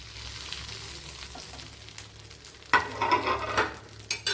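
Chicken pieces fry in a pan for butter chicken, a faint sizzle that swells into louder crackling and stirring scrapes in the last seconds.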